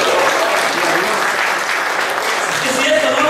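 Church congregation clapping together in praise of the Lord, a dense, steady wash of applause filling the room for a few seconds without pause.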